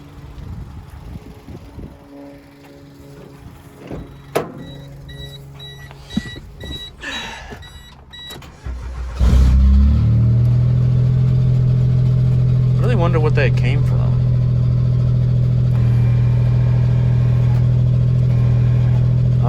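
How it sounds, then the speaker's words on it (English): After some quiet shuffling and brief talk, a Geo Metro engine starts and settles into a loud, steady idle with a constant whining drone close by, transmission noise as the clutch is released. "when I like get off the clutch, it like makes a lot of noise"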